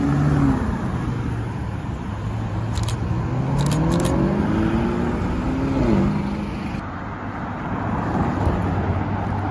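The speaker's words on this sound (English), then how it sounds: "Oh, we got revs from the Urus!" A Lamborghini Urus SUV revving on a street at a supercar gathering in Alderley Edge, with rising and falling engine notes swelling over background traffic noise, fairly close and loud, with brief higher whines mixed in.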